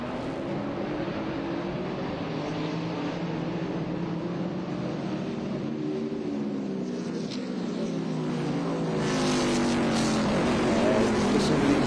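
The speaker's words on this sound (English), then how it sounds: "Listen to these beautiful 850 to 900 horsepower engines wind up and get going up to full speed." Trans Am race cars with 850 to 900 horsepower engines accelerating at Sebring, several engines winding up through rising pitch sweeps in a steady, distant roar that grows slightly louder toward the end.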